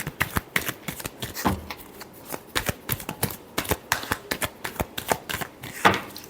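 Tarot cards shuffled by hand in steady riffling bursts, crisp and close, with a brief pause partway through and no talking.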